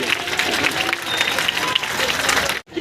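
Loud, continuous clapping from an outdoor audience at a Van Mahotsav tree-planting event in Mahoba, with crowd murmur mixed in, cutting off abruptly near the end.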